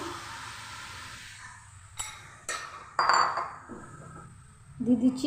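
Pieces of mutton go into a metal kadai for mutton kurma, with sparse clinks and clanks of metal and utensils at close range, separated by quiet gaps and a louder rattle at the end.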